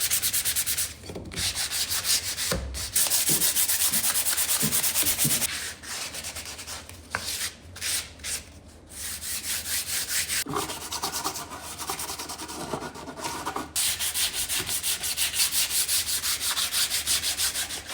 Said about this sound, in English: 220 sandpaper, lightly distressing.